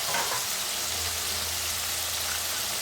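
Diced potato frying in a pan for a spiced potato and pea pulao, giving a steady, even sizzle that holds at a constant level throughout with no voices.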